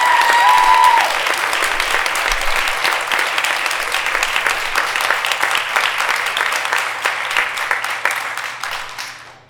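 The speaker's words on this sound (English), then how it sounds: "I want to give them a big round of applause." Sustained audience applause at a teacher-of-the-year celebration, dense and even throughout, fading slightly toward the end with no talk over it.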